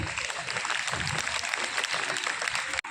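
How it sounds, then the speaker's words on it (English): A school audience gives a big round of applause for student award winners, dense steady clapping filling the clip at fairly close range before cutting off abruptly near the end. "Give a big round of applause"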